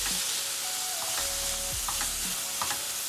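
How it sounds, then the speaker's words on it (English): Onions, peppers and garlic sauté in a pan for a Cajun stuffing, giving a steady close sizzle broken by a few stirring scrapes, with no talking. "I have added the onions, peppers, and garlic, and I'm sauteing them until they have"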